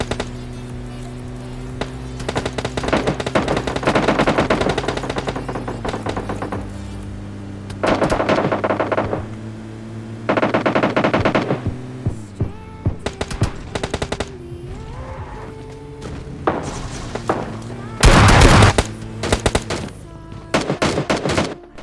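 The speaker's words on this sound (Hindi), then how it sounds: "थर्ड हिल से मुझे कुछ गन साउंड आ रहे थे" Rapid bursts of automatic gunfire from the mobile battle royale game PUBG Mobile Lite during a solo-versus-squad match, several loud volleys separated by short pauses, with a steady game music or ambient drone running underneath.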